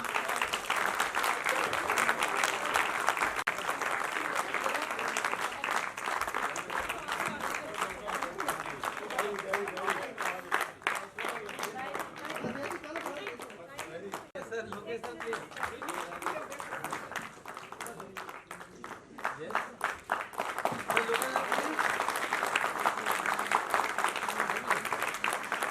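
An audience claps steadily for the director of a Hindi stage play about Shaheed Bhagat Singh, with dense sustained applause running the whole stretch, dipping slightly midway before swelling again.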